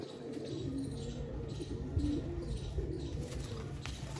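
Low, soft pigeon coos repeat over a steady rumbling background, muffled and somewhat distant, with no voices.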